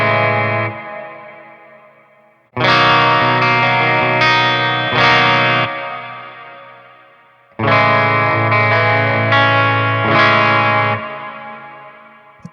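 Distorted electric guitar run through a Boss XS-100 pitch shifter set a whole step down, with two loud sustained chord passages that ring out and fade between restrums, thick and heavily effected, played alone.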